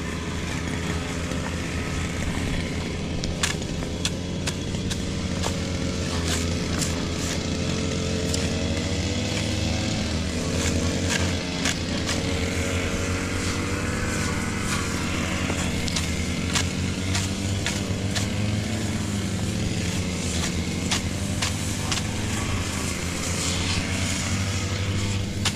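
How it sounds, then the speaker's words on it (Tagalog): A grass cutter engine runs close by without pause, a steady, buzzing two-stroke drone with a slightly wavering pitch that holds at the same loudness throughout. "So ayan, si Makmak muna mag-grass cutter"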